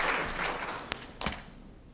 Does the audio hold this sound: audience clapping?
yes